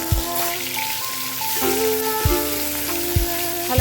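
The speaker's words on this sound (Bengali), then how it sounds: "এরপর তেল গরম হলে একে একে চিংড়ি মাছগুলো দিয়ে ভেজে নিতে হবে।" Prawns fry one by one in hot oil, a close, constant crackling sizzle with a few soft thuds as pieces go in, steady and fairly loud, with no speech.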